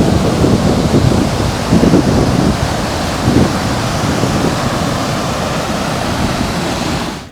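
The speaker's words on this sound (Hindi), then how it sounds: "तो ये है नदी, बिल्कुल ग्लेशियर का जल है, एकदम क्रिस्टल क्लियर।" A crystal-clear, glacier-fed river on the Valley of Flowers trek in Uttarakhand rushes loudly and steadily, with a constant roar of churning water close by.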